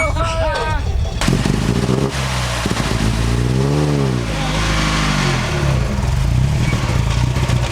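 A 1929 Bentley 4.5 litre engine runs loud and close, a steady rumble that rises in pitch and falls back as it is revved, with bursts of mechanical clatter throughout.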